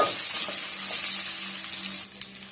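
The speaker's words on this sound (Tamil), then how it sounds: "சேர்த்துட்டு நல்லா வந்து மிக்ஸ் பண்ணி கொடுத்துக்குங்க" Chopped garlic stirred into onions frying in a pan gives a soft, steady sizzle with a faint hiss, fairly quiet and close, fading slightly toward the end.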